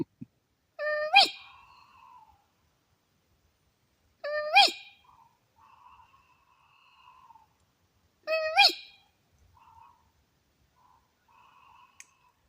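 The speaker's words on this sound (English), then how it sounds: "Owl fights." Owls fight at night near a wild camp, giving three harsh, screeching calls several seconds apart, each with sharp clicks and softer trailing chatter, set against otherwise silent darkness.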